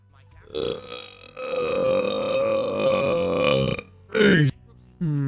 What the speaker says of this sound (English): Was that 2 burps or was it just one big beefy one?